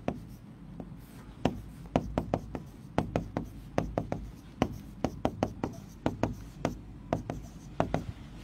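A pen writes during a maths lesson on algebraic ratio and proportion, giving a steady run of crisp taps and scratchy strokes, close and fairly loud, with a voice murmuring faintly underneath.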